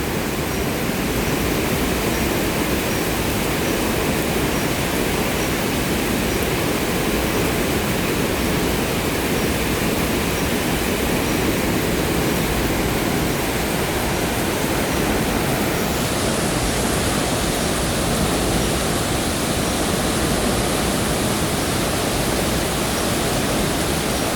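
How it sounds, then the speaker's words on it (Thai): A steady, dense roar of falling water fills the whole stretch without pause, loud and close, beside a waterfall at Phu Khao Khwai, with spray in the air. "อันนี้คือละอองน้ำน้ำตกได้ฮะ"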